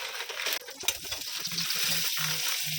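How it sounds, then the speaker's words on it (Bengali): Vermicelli (semai) frying in a pan, a faint soft sizzle with a couple of sharp clinks near the start, then short low humming tones repeating toward the end, quiet and without talk. "অল্প একটু ভিজিয়ে এটাকে ভেজে নিচ্ছি"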